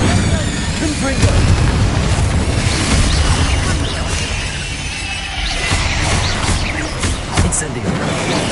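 Booming blasts of the Confringo explosive spell in Hogwarts Legacy, loud rumbling bursts with crackling debris spread across the clip amid battle noise, with a voice speaking over it.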